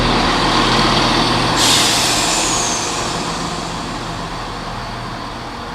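A diesel multiple unit train pulling into Ipswich station from Cambridge, a broad steady engine roar with a brief hiss of air near the start, slowly fading.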